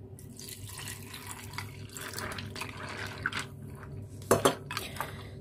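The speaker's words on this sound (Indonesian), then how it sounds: "Nah ini kita cuci bersih dulu" Ingredients for Hong Kong-style soup with winter melon, pork and Chinese herbs are rinsed under running tap water in a sink, with splashing, dripping and light clinks of a bowl and utensils, close and moderately quiet.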